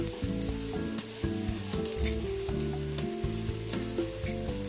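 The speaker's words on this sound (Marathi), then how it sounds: "अशा पद्धतीने ब्रेडला पलटून घ्यायचं आहे।" Egg-dipped bread frying in a pan, giving a continuous close sizzle that crackles steadily throughout while music plays over it.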